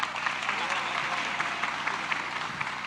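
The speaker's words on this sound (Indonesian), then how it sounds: "Kita berikan aplaus." Enthusiastic applause from an audience at a political declaration rally of young entrepreneurs backing Prabowo and Gibran in Indonesia, a steady dense clapping that carries through the whole stretch without letting up.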